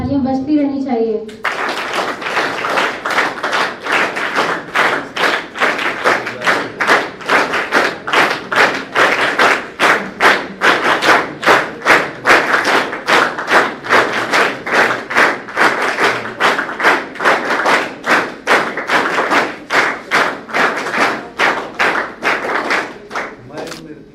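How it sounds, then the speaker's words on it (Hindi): Rhythmic unison clapping from an audience at an NCC Vijay Diwas ceremony in Patna honouring 1971 war martyrs, steady loud claps in a regular beat sustained for over twenty seconds after a brief voice at the start. "तालियां बजती रहनी चाहिए।"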